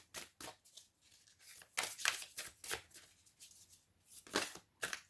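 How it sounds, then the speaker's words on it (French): A deck of cards being shuffled by hand, with a series of crisp riffling bursts and soft slaps at an uneven rhythm, close and fairly quiet, without talk. "on rebrasse les cartes."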